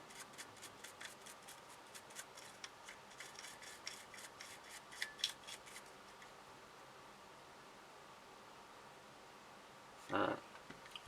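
A toothbrush scrubs a Keltec P3AT pistol in quick, quiet rhythmic strokes for several seconds, then stops; a short louder burst follows near the end.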